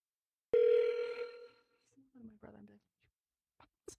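A single steady ringback tone sounds on an outgoing telephone call, clear and fairly loud for about a second before fading, followed by a short stretch of quiet speech.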